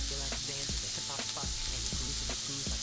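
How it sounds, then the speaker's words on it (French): Onions frying and lightly caramelizing in a pan inside a burrito food truck, with a steady close sizzle and repeated scraping stirring strokes throughout. "Alors, on fait revenir légèrement les oignons. On va légèrement les caraméliser."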